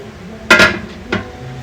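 A metal lid is set onto a pressure canner filled with jars of ground beef, giving a close, bright double clank followed by a softer metallic tap about half a second later.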